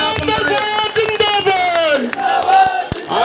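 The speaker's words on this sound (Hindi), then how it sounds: "एक बार जोरदार तालियों के साथ" Large outdoor political rally crowd cheering and shouting with some clapping, loud and sustained, with voices rising and falling across the throng.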